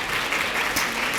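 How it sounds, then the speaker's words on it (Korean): A brief burst of steady audience clapping at a Korean educational technology academic conference, welcoming a panel discussant, dense and even, with no voices over it. "박수로 맞아주시길 바랍니다."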